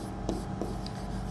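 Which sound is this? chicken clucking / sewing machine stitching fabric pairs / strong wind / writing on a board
writing on a board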